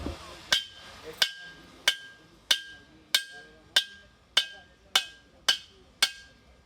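Ten sharp metallic strikes of a knife blade against a steel profile ring out at a steady, even pace, each one a bright clang with a short decaying ring.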